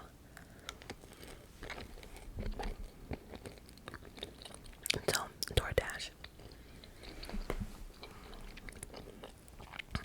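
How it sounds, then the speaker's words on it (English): Close-up wet chewing of gum with soft smacking and crunchy mouth clicks, mixed with quiet whispered talk and scattered louder bursts near the middle. "I will be chewing gum"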